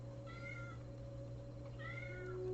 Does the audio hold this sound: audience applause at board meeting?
no